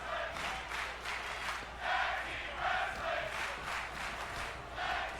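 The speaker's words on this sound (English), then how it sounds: "And the crowd is shocked." Wrestling crowd at an NLPW show reacting in shock after a near-fall, a loud sustained roar of many voices swelling in several waves across the arena.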